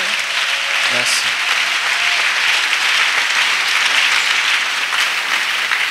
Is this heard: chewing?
no